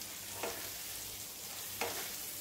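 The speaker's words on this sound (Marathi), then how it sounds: "आता डाळ ही व्यवस्थित इथे परतून घ्यायची आहे, गॅस बारीक करायचा आहे।" Chana dal stirred and roasted in a pan over low heat: a quiet, steady frying hiss broken by two distinct stirring scrapes about a second apart.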